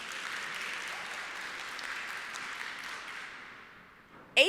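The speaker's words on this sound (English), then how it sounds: "Give Meira a round of applause." A live audience applauds steadily for about four seconds, a dense wash of clapping that thins and fades out, followed by a brief sharp noise at the very end.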